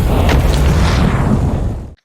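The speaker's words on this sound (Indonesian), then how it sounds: "benda itu meledak dengan sangat dahsyat sampai membuat Tom terlempar" A cartoon bomb goes off in one loud, sustained booming blast with a heavy low rumble that holds steady for nearly two seconds, then cuts off abruptly to silence.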